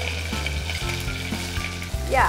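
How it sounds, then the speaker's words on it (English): Sliced onions sizzle in hot oil with spluttering mustard seeds and curry leaves, a steady close crackling fry with a brief stir or scrape near the end, for a Mangalorean prawn dish. "splutter mustard, add a sprig of curry leaves, and we slide in the sliced onion"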